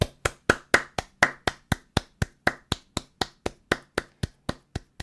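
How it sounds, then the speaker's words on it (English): Crisp single claps repeat at an even, brisk pace, about four per second, each sharp and close with a short decay. The sound is thin, like one pair of hands rather than a dense crowd. "Massive round of applause."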